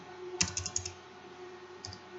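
Quiet typing on a computer keyboard: a quick cluster of several clicks, a pause, then two more keystrokes, close but soft over a steady low hum.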